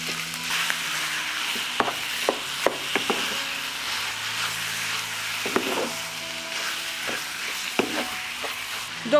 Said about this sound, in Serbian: dodat ću kilogram mlevenog mesa i njega ću propržiti